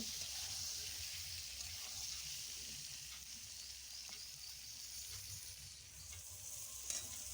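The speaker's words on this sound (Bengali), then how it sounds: "পটলগুলোকে ভালো করে ভেজে নেব" Pointed gourds (potol) frying in oil in a wok, with a constant, fairly quiet sizzle and a few faint stirring clinks and no voice.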